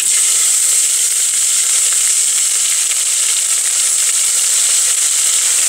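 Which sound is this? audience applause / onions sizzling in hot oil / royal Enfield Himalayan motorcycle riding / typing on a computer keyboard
onions sizzling in hot oil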